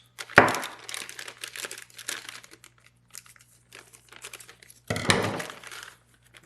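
Plastic packaging from a kayak fish finder bundle is cut open, giving two loud crinkling, tearing bursts near the start and around five seconds. Softer rustling and handling of the plastic fill the stretch between them.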